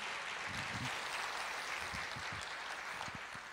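A church congregation claps steadily throughout, a broad wash of applause with some louder hand claps near the front, no voices on top.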